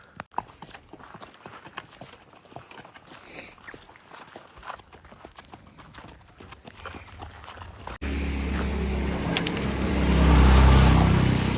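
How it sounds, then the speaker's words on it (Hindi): A Marwari stallion walks on a desert trail, its hooves clip-clopping in a steady rhythm at close range, joined later by a louder low rumble and wind. "शेरा चल रहा है मेरे पीछे पीछे, और क्लोई राइड कर रही है।"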